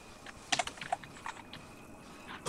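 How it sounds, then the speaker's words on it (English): Several keys on a computer keyboard are pressed in a quick, irregular run of crisp clicks, close and fairly faint, with no voices. "you just use the plus and minus keys on your keyboard"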